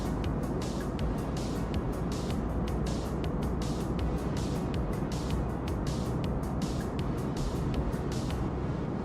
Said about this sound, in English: You can sort of hear the engines roll back a bit.